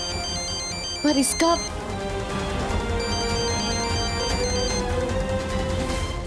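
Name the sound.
mobile phone ringtone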